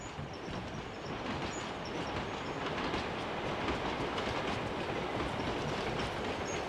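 A train rumbles steadily close by as it arrives at a station platform, its wheels clattering over the rails with a continuous, heavy roar and faint high squeals on top.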